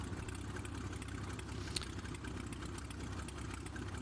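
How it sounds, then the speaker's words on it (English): Cessna 185F amphibian engine running steadily at a low idle-like drone during a pre-takeoff run-up in the FS9 flight simulator, a constant near hum with no talk. "So here we're going to do a run-up of the engine and check the temperatures"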